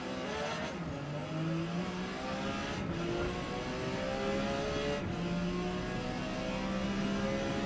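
Porsche 956 race car engine in Forza Motorsport at Kyalami, accelerating hard off the race start with rising pitch and quick gear-change breaks, loud and steady with other cars around.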